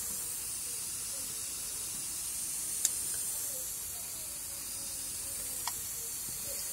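Vinegar and detergent fizzing inside a washing machine drum caked with limescale and residue, a steady faint hiss of bubbling foam with a couple of tiny sharp clicks.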